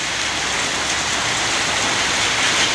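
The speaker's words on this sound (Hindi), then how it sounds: "बहुत बारिश हो रही है पानी के अंदर" Heavy rain pours in Salalah, Oman, a steady, dense hiss with no pauses, close and fairly loud, with no voices heard.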